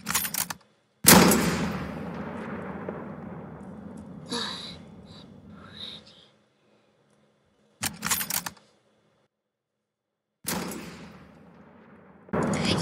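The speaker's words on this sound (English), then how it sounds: "Yeah, I'm gonna shoot." Gunfire bursts at target practice on a military base in a Minecraft WWII soldier game, several sharp loud volleys separated by silent gaps, with fading tails after each burst.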